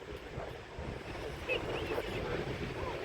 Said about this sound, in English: Got a good breeze in here.